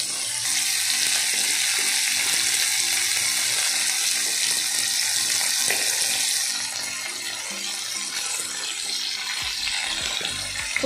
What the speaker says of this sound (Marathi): पहिले फ्राय करून घेऊया.